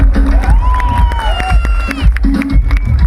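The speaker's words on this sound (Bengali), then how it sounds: "রেমোর জন্য জোরে হাততালি" A crowd at a Jagaddhatri Puja stage show in Kalyani cheers and whoops loudly, with shrill whistles and excited voices, in a dense, close, continuous roar of celebration.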